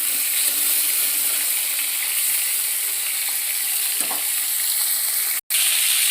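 A large fish frying in very hot oil, giving a loud, dense, continuous sizzle close up, with one brief cut in the sound near the end.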